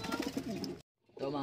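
Pigeons cooing close by at a home loft, low murmuring coos that stop briefly and then resume, mixed with a voice talking over them.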